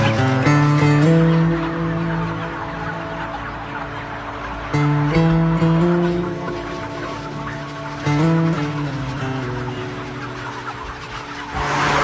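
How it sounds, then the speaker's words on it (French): Dense chorus of chickens clucking inside an intensive broiler farm raising poultry for McDonald's, a loud continuous mass of overlapping calls with a steady background hum, no talking. "dans un élevage intensif de poulets destiné à McDonald's"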